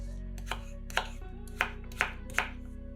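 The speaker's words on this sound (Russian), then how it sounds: "Картошку тоже нарезаем кубиками." A knife chops potatoes into cubes on a board, with five sharp, evenly spaced cuts at a steady rhythm over a low background hum, close and clear with no talking.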